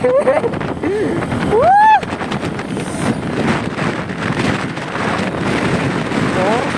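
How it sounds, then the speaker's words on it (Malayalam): Strong wind buffets the microphone outdoors at a scenic hilltop spot, a steady, loud, rumbling roar through the whole stretch, with a person's voice rising briefly over it. "അയ്യോ കാറ്റ് നല്ല രീതിക്കൊണ്ട് കേട്ടോ"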